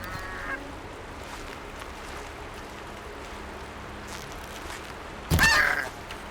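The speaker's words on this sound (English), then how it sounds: "We killed the goose, which I didn't want, but for meat we need it." A goose in the Horizon Zero Dawn video game gives a single loud, raspy honk near the end, close and brief, over a steady wash of ambient game background.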